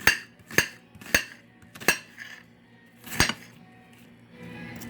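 A knife chopping white onions for Puerto Rican sofrito gives five or six sharp, hard clacks on a board at an uneven pace, close and loud, followed by quieter shuffling.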